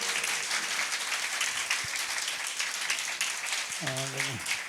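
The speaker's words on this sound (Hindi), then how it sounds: "जोर से ताली बजाएं प्रभु के लिए" A church congregation applauds loudly during a live Sunday service, steady dense clapping filling the space, with a brief sung or spoken voice rising near the end.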